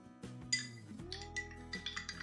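A spoon stirring food colour into water in a glass during a classroom science demonstration, giving a few light clinks and taps against the glass, quiet and close.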